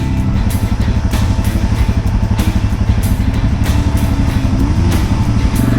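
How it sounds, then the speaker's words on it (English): Side-by-side UTVs, including a Polaris RZR S 800 and Honda Pioneer 1000, claw through rough holes on a trail. Loud, continuous engine drone and clattering throb up close, with repeated bumps and knocks over the churning motor. "Side-by-side seem to be getting through here,"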